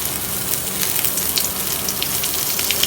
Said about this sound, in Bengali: আমি আরেকটু তেল অ্যাড করছি